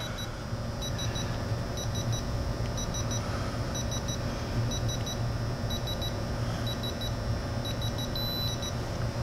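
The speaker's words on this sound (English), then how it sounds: "You heard that beep?" Short, high electronic beeps from a Mastercraft 1/2-inch digital torque adapter repeat in quick pairs and triplets at a steady rhythm over a constant mechanical hum.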